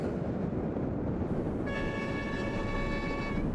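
Train running westward from Xi'an toward Urumqi, with a constant loud rumble of wheels and a sustained horn blast sounding for about two seconds partway through.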